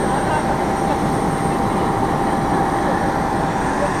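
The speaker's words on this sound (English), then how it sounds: "So, jetzt geht's los. Erster Flug nach Amsterdam mit einem KLM Cityhopper." KLM Cityhopper airliner departing for Amsterdam, heard from inside as a loud, steady broadband engine roar that stays constant throughout with no talk over it.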